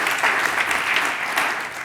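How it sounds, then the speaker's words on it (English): An audience at an early childhood development lecture applauds after a talk, with a dense, sustained burst of clapping that fills the room and stays at an even level throughout. "Ja, applaudieren."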